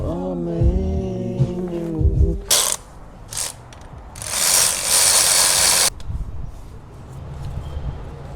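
Ratchet wrench clicking in short bursts while a car's intake is fitted during engine repair work that includes an ignition coil and six spark plugs, close and fairly loud, with a humming tone and some clanks of metal parts.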